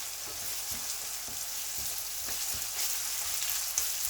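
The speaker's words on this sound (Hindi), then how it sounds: "ज़ीरा ऐड करके तकरीबन 7-8-10 सेकंड के लिए मैं पकाऊंगा" Cumin seeds frying in oil in a kadhai for white lamb kadahi, a steady close sizzle with a few soft scrapes of stirring throughout.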